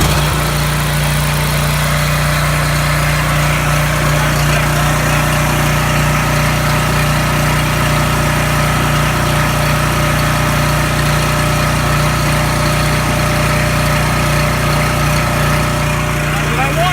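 Small Coleman engine running steadily without the choke at a constant governed speed, a continuous close mechanical drone with a strong steady hum and no pauses.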